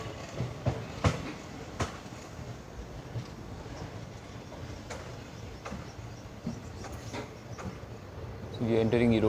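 Kannur Bengaluru Express train rolling along the rails near Erode Junction, a steady low rumble with sporadic sharp clacks and knocks, and a louder surge of rumbling toward the end.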